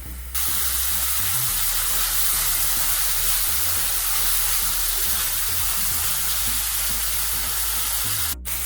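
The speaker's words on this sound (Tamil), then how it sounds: "இப்போ நம்ம தக்காளி ஆட் பண்ணிக்கலாம்." Chopped tomatoes tipped into golden-brown frying onions in a hot pan for masala noodles, setting off a loud, steady hiss of sizzling oil that runs unbroken for several seconds, close and alone.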